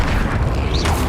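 A brief, loud, close impact rumble from the Flipendo spell in the video game Hogwarts Legacy, a dense low boom with a short bright swish near the end, no talk.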